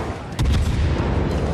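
Warship guns in a naval video game fire one heavy, booming salvo close by, then a thick low rumble rolls on and fills the rest of the moment.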